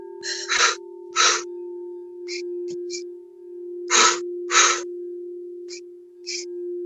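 Sharp, forceful breaths in and out during quick forward and backward kicks in a yogilates core class, several bursts in a rhythmic pattern over a steady hum.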